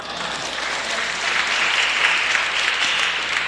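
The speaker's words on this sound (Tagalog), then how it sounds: "Palakpak!" Loud, sustained applause from a church congregation, a dense wash of many hands clapping continuously without a break, swelling slightly midway.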